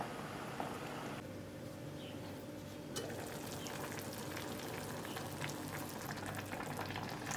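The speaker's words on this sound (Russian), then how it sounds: "И варим 5 минут с момента закипания." Button mushrooms in marinade bubble and simmer steadily in a pot, a continuous close hiss and crackle of small bursting bubbles.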